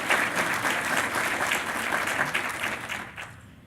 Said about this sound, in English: Let's give our Education Foundation supporters a round of applause.